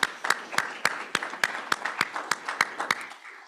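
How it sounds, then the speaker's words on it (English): A brief, sparse round of applause for the short talkers at a GIS Day session at the University of Idaho: a handful of separate, distinct claps in an uneven rhythm, fairly quiet, lasting a few seconds before fading. "let's just give one more round of applause to all our short talkers this afternoon"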